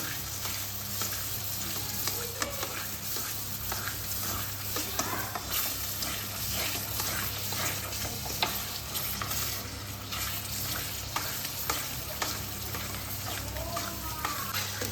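Spice paste with yogurt being stirred constantly in a frying pan over low flame for Bengali katla fish kalia, a steady close sizzle with repeated spoon scrapes and a low hum throughout.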